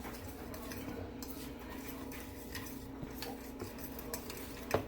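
Utensil stirring Peruvian chicken in a bowl for a rub, with soft, continuous scraping and clinking against the bowl, steady and close, ending in one sharper clink.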